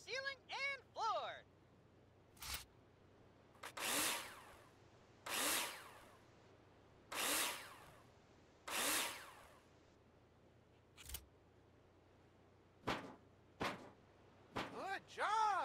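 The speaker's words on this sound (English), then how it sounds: "screw them in with a drill" A power drill in the Builder Simulator game drives screws into drywall profiles, several separate whirring bursts of a few seconds each, spaced apart, then shorter quick zips near the end.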